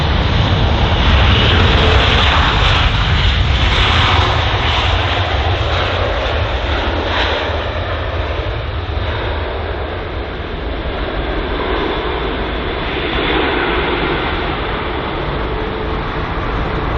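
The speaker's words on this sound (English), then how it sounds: "the British Airways A320 there, arriving from Prague on its almost 2-hour long flight" A British Airways Airbus A320 arriving at London Heathrow from Prague, its engines a loud, steady roar that holds for the whole stretch with a slight swell and fade, no voices.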